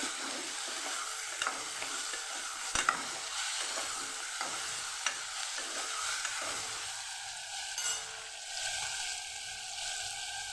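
Vegetables and spices frying in a pan for a Kathiyawadi mixed vegetable dish, giving a steady close sizzle broken by occasional clicks of a stirring spoon, with no talking.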